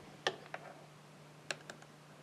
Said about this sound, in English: So now when I double click there